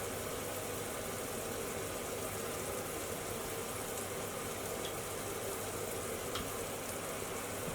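Ingredients for a chicken madras curry fry steadily in a pan, giving a continuous, even sizzle with no talking.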